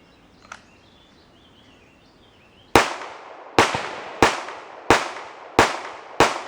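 Six sharp, loud 9mm pistol shots from Winchester rounds at a shooting test, fired in an irregular series after a quiet pause, each with a short echoing decay.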